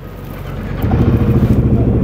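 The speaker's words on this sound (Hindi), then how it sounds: "तो हमने बाइक स्टार्ट की।" A 2024 Royal Enfield Himalayan 450 motorcycle engine starts up close by, its rumble swelling after a moment into a steady idle, with some wind noise.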